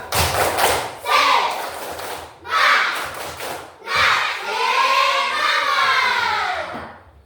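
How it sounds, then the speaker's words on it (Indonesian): Classroom of schoolchildren doing a rhythmic spirit clap together, bursts of loud group clapping and shouted chant in a steady pattern, ending in a sustained collective cheer. "beri tepuk semangat dulu"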